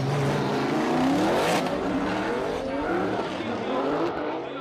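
A BMW drift car at Suzuka Twin Circuit in a Formula Drift Japan competition, engine roaring loud and close with a long sweeping tire squeal as it slides, the pitch bending through the run before fading.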